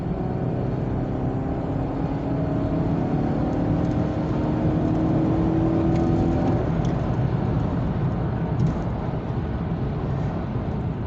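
Chevrolet Camaro V6 accelerating on the road, a steady broadband engine and road roar inside the cabin with rising tones as revs climb, then settling into a constant drone.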